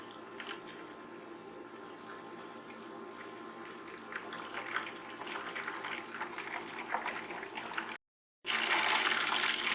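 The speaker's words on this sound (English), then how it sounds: "So that's the water vapor boiling off." Butter simmering in a pan while being clarified into ghee, a quiet, continuous bubbling and spattering as water cooks off, briefly cutting out near the end and then returning louder.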